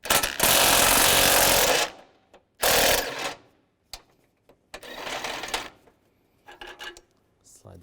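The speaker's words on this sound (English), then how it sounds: "Use a 15mm socket, take this bolt out, be careful of the fuse box." A 15mm socket wrench working a bolt out of a 2006-2011 Cadillac DTS near the fuse box, with loud bursts of rapid mechanical rattling separated by pauses and a few quieter clicks, close up.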